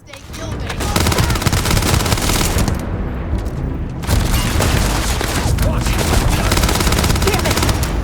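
A Starfield firefight with sustained rapid gunfire and bursts of automatic shots, loud and close, briefly dropping off before resuming heavy shooting with booming impacts.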